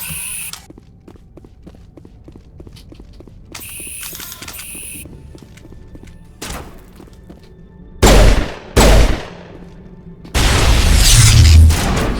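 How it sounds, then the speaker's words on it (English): A grenade blast and gunfire in the video game Mass Effect Legendary Edition sound as several loud, heavy booms and crashes near the end. Quieter mechanical clicks and steps come before them. "Hangi orospu çocuğu bomba attı bana?"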